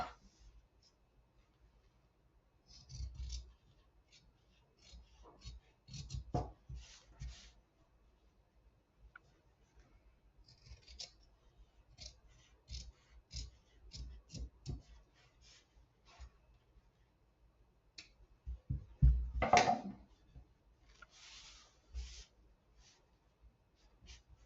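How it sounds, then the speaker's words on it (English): Intermittent snips of scissors cutting felt along template lines for a Valentine's Day craft envelope, quiet close crunches in short irregular bursts separated by pauses, with one louder cut near the end. "So I'm just going to cut out along my template lines."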